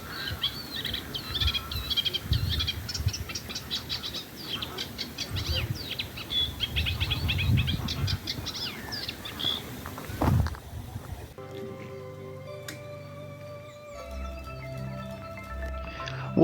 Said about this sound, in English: A reed warbler was giving a amazing song from thick within the reeds as normal